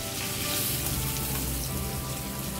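Fish pieces frying in a pan for a Godavari-style Andhra fish curry, a dense, loud, continuous sizzle throughout.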